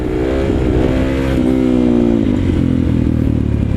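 A motorcycle engine revs hard in second gear while the front wheel lifts into an uphill wheelie, a loud, steady drone with rising and falling pitch close to the rider.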